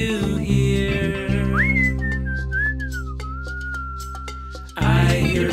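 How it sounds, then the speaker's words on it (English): A person whistles a short, wavering tune, heard clearly above a steady sustained musical backdrop. "I hear a zookeeper whistling in my ear."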